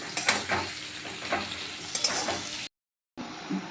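A bay leaf fries in oil in a pan for chicken curry, giving a steady close sizzle with scraping stirs. It drops to brief silence, then returns more faintly.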